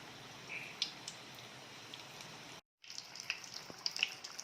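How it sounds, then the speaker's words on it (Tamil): Wheat onion samosas fry in hot oil with a faint, steady sizzle and occasional small pops, broken by a brief silent gap. "எண்ணெய் நல்லா சூடாயிடுச்சு. இப்போ நம்ம போட்டு எடுத்துடலாம்."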